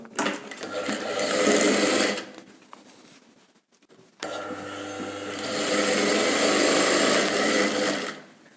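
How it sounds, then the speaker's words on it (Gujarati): A sewing machine stitches the side seam of a blouse in two loud, steady runs, stopping briefly for a near-silent pause before the motor starts up again and hums on. "એકદમ આ કિનારી ઉપર આ સાઈડ એક સિલાઈ લગાવી અને પહેલાં આને જોડી લેવાનું"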